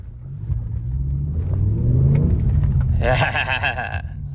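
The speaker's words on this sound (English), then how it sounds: "Let's rev it up a little bit." A BMW M6 V10 engine idles with a deep rumble, then revs up into a rising, whining roar and settles back down, heard close.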